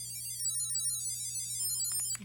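An Ekster wallet tracker rings through its ring-to-find feature, giving a steady, repeating high-pitched electronic chime. It plays continuously and fairly faint, with a low steady hum underneath and a couple of brief handling clicks near the end.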